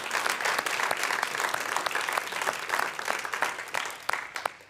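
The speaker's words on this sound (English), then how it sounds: "Very big round of applause" An audience at a synagogue annual meeting and volunteer appreciation event applauds a longtime volunteer, a steady wash of many hands clapping, moderately distant and sustained, with a few sharper claps near the end.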